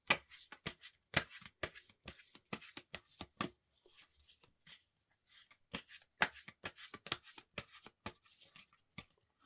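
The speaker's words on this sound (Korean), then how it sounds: "보조 카드도 같이 한번 뽑아볼게요." Tarot cards are shuffled in quick, close, crisp riffling bursts, with brief pauses between flurries and no talking.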